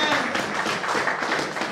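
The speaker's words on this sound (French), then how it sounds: "Est-ce qu'on va applaudir la parole du Seigneur?" A church congregation applauding during a worship service: continuous, fairly even clapping from many hands, heard close and filling the whole short moment with no talk over it.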